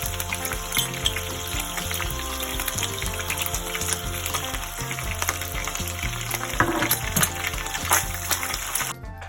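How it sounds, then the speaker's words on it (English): Ground meat for a bolognese browns in ghee in a pan, with loud, continuous crackling sizzle and occasional stirring scrapes, close and unbroken for several seconds. "I'm just letting the meat brown up with the ghee"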